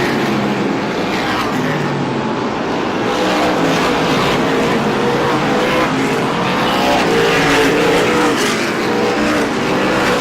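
Super late model race cars in a 125-lap race at Star Speedway roar loudly and continuously as they battle through lapped traffic, with engine drone rising and falling.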